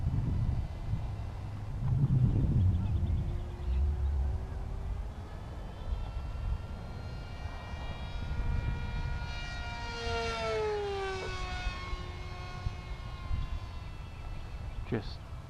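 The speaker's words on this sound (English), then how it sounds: "Just chops through the air, that prop." An electric RC plane, a Carbon Z Scimitar, buzzes overhead, its propeller whine rising and falling in pitch as it passes, with wind and faint voices nearby.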